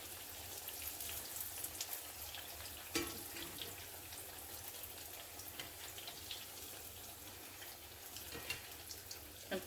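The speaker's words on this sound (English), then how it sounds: "And keep frying these" Sliced squash fries steadily in hot oil, a dense, even crackling sizzle like light rain, fairly quiet and continuous with a few sharper pops; no one speaks.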